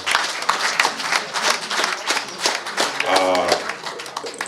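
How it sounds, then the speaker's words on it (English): Audience applause at a baseball awards event, with dense clapping throughout alongside speech-like sounds and a brief voiced tone near the end. "a round of applause for Brandon"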